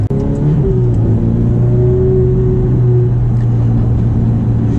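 Ferrari F430 engine revving steadily and loudly, its tone rising and settling as the single-clutch gearbox shifts up and down through the gears, a continuous close drone with no talk.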